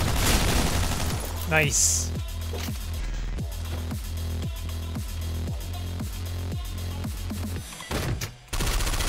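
Shotgun blasts in the top-down shooter game OTXO fire in a rapid run of evenly spaced booms, loud and punchy, with a brief spoken remark near the start.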